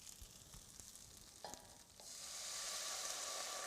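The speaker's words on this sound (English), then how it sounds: "the next thing we're going to add in is our 2 cups of wine" Two cups of red wine go into a hot braising pan of browned short ribs. Faint scrapes and taps come first, then a steady, bright sizzling hiss swells up and holds.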